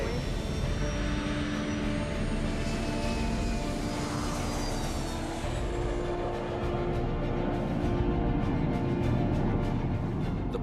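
LearJet accelerating down the runway for its first takeoff, a loud, steady jet engine roar with rising whine that holds throughout at close range.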